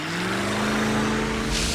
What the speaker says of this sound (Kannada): ಬೇಗನೆ ಮೋಟಾರ್ ಬೋಟ್ ಓಡಿಸ್ ನನ್ ಗೆಳೆಯ